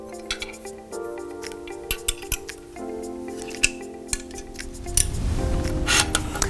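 Small metallic clicks and scrapes of an Allen key working screws loose on the rods of a PT4200 professional 12-inch teleprompter, close and intermittent over a steady hum, ending in a rougher rustle.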